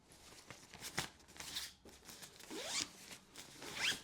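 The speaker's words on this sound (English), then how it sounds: "Zip up the regular compartment" Zipping up the regular compartment of a travel packing cube: several short, close zipper pulls with brief pauses between them, crisp and fairly quiet with no talking.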